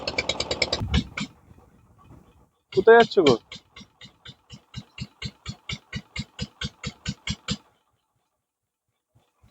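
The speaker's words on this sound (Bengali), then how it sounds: "একদম ঘন জঙ্গল ম্যানগ্রোভের, এবং তার মধ্যে দিয়ে এই নৌকা চলেছে।" A boat engine chugs through a dense mangrove forest creek, voices speaking briefly first, then a regular putt-putt of evenly spaced pulses that carries on for several seconds before cutting out into near silence.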